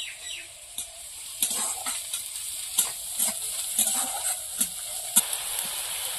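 Ground cumin paste hits hot oil in a home kitchen pan with browned onions, giving a steady close sizzle with scattered sharp pops and crackles throughout.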